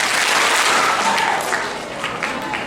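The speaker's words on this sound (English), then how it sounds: "Let's give 2 big claps for that speech." Audience of student delegates clapping after a candidate's campaign speech at a youth assembly, a loud burst of applause that stays dense and fades a little toward the end.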